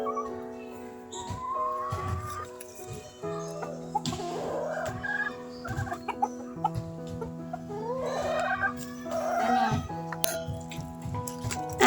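Pet silkie chickens cluck and chatter repeatedly while waiting to be fed, close by, with a few brief voices mixed in among the birds.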